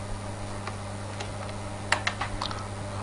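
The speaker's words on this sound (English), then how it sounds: "we did that by pressing the Control, Shift and V keys" Computer keys are pressed on a keyboard to paste a command into a Debian 6 terminal, a few quiet scattered taps followed by a quick cluster of sharper clicks near the end.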